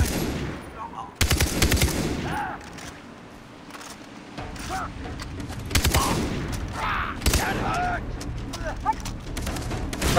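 Rapid automatic gunfire rattles in a Far Cry 3 firefight, dense bursts with sharp individual shots mixed over game sounds while someone talks.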